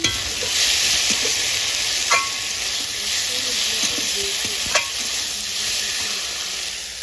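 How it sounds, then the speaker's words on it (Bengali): Fish curry bubbling and simmering in a pan over a clay stove, with a steady sizzling hiss and a few scraping stirs of a spoon against the pan, close and moderately quiet with no talk. "দেখো এদিকে আমি মাছের ঝোল বানাচ্ছি"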